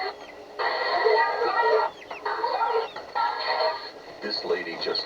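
Chickens cluck and squawk in repeated loud bursts over about five seconds, close by, with a voice speaking among the birds.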